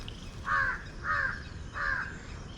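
Three loud crow caws in a park in Indore, Madhya Pradesh, evenly spaced about a second apart against a soft outdoor background, with no talking.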